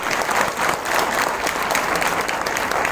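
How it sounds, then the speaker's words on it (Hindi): An audience claps together throughout, dense and steady applause from a sizeable crowd at an indoor gathering, sustained at even loudness for the whole stretch. "5 लाख के लिए तो ताली बजा लो"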